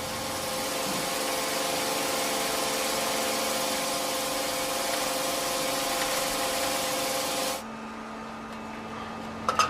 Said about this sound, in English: The billet goes into a machine which squeezes and squashes it even more and cuts it up into hundreds of very thin strips.